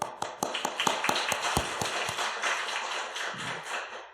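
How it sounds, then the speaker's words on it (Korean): A church congregation at a Wednesday evening service claps in thanks, starting with a few crisp, evenly spaced claps that quickly swell into a denser, softer wash of applause. "감사의 박수."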